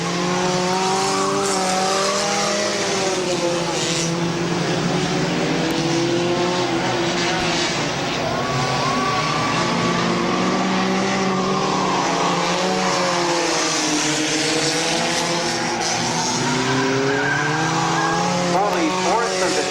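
Stock race cars lap Midvale Speedway mid-race, their engines a loud, unbroken roar whose pitch rises and falls as the pack circles, with a track announcer's commentary running over it.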